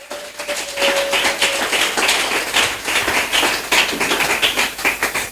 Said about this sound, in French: Est-ce que tu peux applaudir pour le Saint-Esprit ce matin?